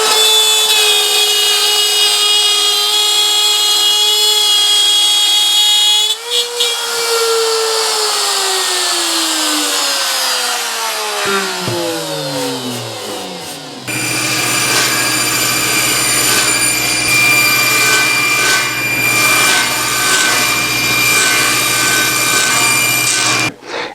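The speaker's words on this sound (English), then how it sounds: "I cut this template out of 1/4-inch masonite" A saw cutting a template from 1/4-inch masonite, loud whining tone rising and falling as the blade slows, then a harsh, steady buzzing cut resumes.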